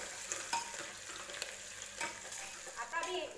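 Chopped green chillies fry in a pan for a spicy Khandeshi vegetable dish, a steady sizzle broken by a few sharper crackles and spoon scrapes, close and moderately loud with no talking.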